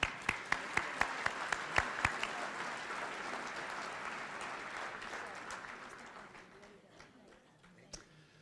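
Applause from a crowd at a mayor's business celebration luncheon, with sharp individual claps up front that swell into steady clapping and then thin out and fade toward the end.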